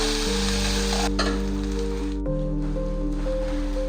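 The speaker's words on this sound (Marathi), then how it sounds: "कांदा मी एकदम लाईटली ब्राऊन होऊन देणार आहे." Sliced onion sizzling steadily in hot oil in a pan, frying until lightly browned for cabbage momos, a continuous close crackle with occasional stirring and a background hum.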